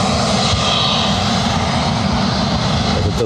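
A Condor A321 jet taking off at Lanzarote Airport roars loudly and continuously, a dense, even engine rumble close by with no voices over it.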